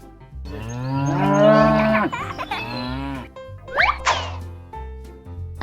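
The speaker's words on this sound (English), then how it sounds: "Cow." A cow moos in a long, drawn-out, rising and falling low call, close and clear, followed by shorter cartoonish plops and boings against an otherwise quiet background.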